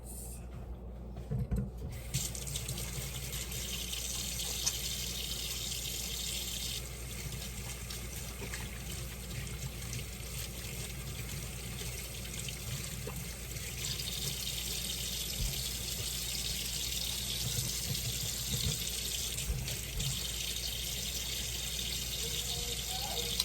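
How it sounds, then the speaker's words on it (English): Tap water runs in a steady, even rush while hands are washed under it at a kitchen sink, continuing unbroken throughout. "So the first thing we're gonna do is wash our hands"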